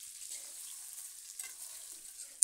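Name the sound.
radish and potato frying in pan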